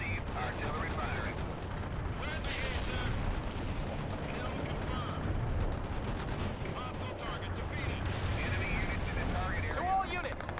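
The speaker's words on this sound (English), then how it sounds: "Coordinates received. Artillery firing." Artillery firing in World in Conflict, a sustained battlefield din of rapid gunfire and repeated blasts layered over a heavy low rumble, with occasional louder impacts and voices talking throughout.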